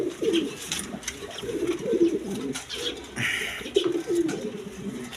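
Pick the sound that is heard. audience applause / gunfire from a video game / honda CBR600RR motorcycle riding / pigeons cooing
pigeons cooing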